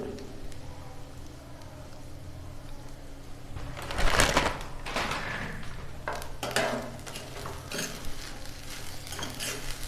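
Grated coconut mixed with salt is stirred in a pan for Tamil coconut rice, making scraping, rustling strokes that swell into louder bursts midway, with someone talking throughout.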